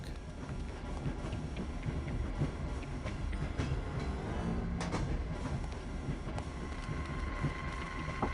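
A train rolls along in the video game The Operative: No One Lives Forever, giving a continuous rumbling drone with scattered metallic clicks and clatter, steady and moderately loud throughout.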